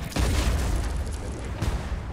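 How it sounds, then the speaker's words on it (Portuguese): Ship cannons fire in a naval battle video game, with two heavy, rumbling booms about a second and a half apart, each followed by a rolling low roar. "Disparei um canhão"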